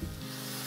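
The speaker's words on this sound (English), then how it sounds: "Saute for another 2 to 3 minutes." Garlic and onions sautéing in olive oil with smoked paprika and whiskey in a pan, a brief, faint, steady sizzle heard alone.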